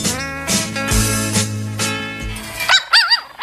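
A dog barks repeatedly in a fast, loud, close series of harmonic yaps, followed by a few rising and falling whimpering whines at the end.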